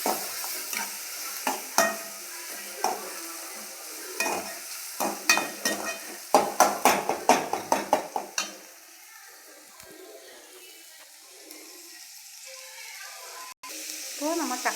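Chopped onion, chili, ginger and garlic saute in a pan with sharp scraping spatula strokes that come in quick bursts and then fade to a soft, steady sizzle.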